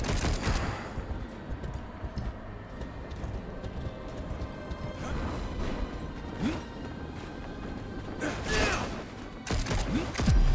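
Rapid weapon fire in the action game Darksiders Genesis, a dense, continuous barrage of shots with impacts and scattered effect sounds throughout, loud and busy.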